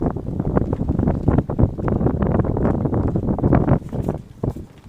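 Heavy wind buffets the microphone at an outdoor charity game in rough, continuous low rumbles and gusts, loud and close, with no voices heard.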